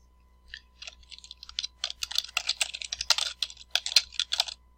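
Quick, uneven clatter of computer keyboard typing as a checkout form is filled in, with close, crisp key clicks in a fast burst and no talking.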